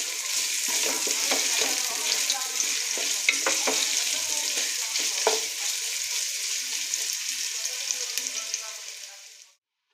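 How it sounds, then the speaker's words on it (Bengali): Onions and garam masala frying in hot oil for a chicken roast give off a steady, close sizzle with occasional stirring scrapes, no talking. "এখন তেলের মধ্যে গরম মশলা, পেঁয়াজ দিয়ে দিচ্ছি। পেঁয়াজটা ভালো করে ভেজে নিব যে পর্যন্ত বাদামি কালার না আসবে।"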